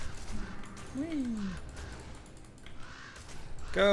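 Ravens cawing in a video game, a few harsh rising-and-falling calls close by over a busy game soundscape, with a brief clatter near the end.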